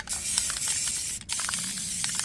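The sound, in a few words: Rust-Oleum spray paint being sprayed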